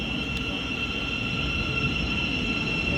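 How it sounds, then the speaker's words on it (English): Thameslink Class 700 electric train at Hitchin station on the East Coast Main Line, a steady close rumbling drone with a sustained high whine, continuous and loud with no talk. "running platform 2 is going to be a Thameslink service going from Brighton to Cambridge"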